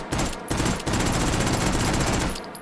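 Rapid gunfire from a Mauser carbine in the H3VR video game, a fast, continuous burst of close, loud shots that rattle without pause for a couple of seconds.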